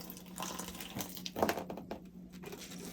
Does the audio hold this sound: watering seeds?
yes